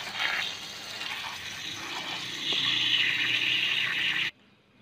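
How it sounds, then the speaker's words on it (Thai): Water gushes from a tap fed through a temporarily repaired, remotely switched supply line, a steady hiss that swells louder midway and then cuts off abruptly near the end. "น้ำไหลแล้วนะครับ"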